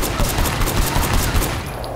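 Rapid automatic rifle fire rattles in a fast, even stream of sharp shots, loud and close, then cuts off and fades into a quieter tail near the end.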